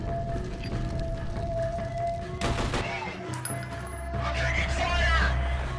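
Rapid bursts of gunfire crackle through the F.E.A.R. Perseus Mandate shooter, a sustained exchange of shots with a sharp cluster in the middle and a rumbling low end, while someone talks over it.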